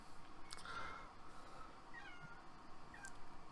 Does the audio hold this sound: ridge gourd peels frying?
no